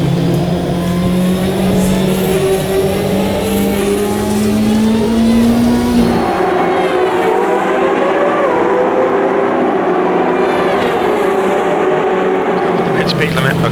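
A CART 2000 race car engine howls at Road Atlanta in the Automobilista 2 racing game, a loud, sustained drone whose pitch climbs and drops through the gears, with a brief lift in the middle before it pulls hard again.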